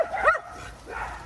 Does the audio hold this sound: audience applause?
no